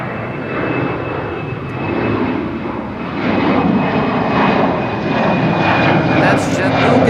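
Aircraft engines roar steadily and loudly during morning departures on runway 24 (Kaagbaan) at Amsterdam Schiphol airport, a continuous broadband jet rumble that swells slightly toward the end.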